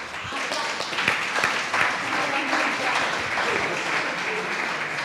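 Warm audience applause at a vocational excellence conference as people are thanked, a steady, dense wash of many hands clapping that holds evenly throughout, fairly close and full.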